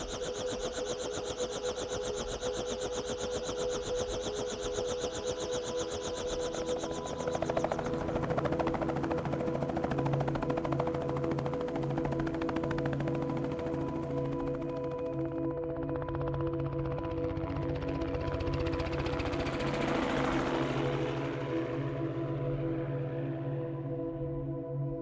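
Helicopter ride, a steady low engine drone and rotor hum heard from inside the aircraft, continuous and moderately loud, shifting in tone partway through, with no talk.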